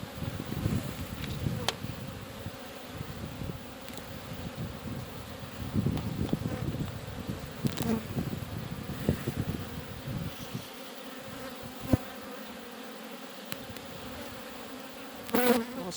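Honeybees buzz steadily around a hive just after swarming, a dense close drone outdoors with occasional louder passes near the microphone and light wind noise.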